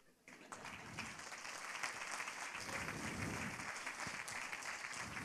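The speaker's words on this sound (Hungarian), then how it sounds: "akkor kezdjenek el tapsolni most." Sustained applause from a concert audience at a Galga-region folk music New Year's concert, a dense, steady wash of clapping that swells in after a brief quiet start and carries on evenly throughout.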